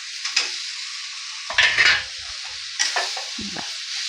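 Potatoes are sautéed in a pan with soybean curry: a soft, constant frying hiss is broken by a few short bursts of spatula scraping and stirring against the pan, close by, with no talking.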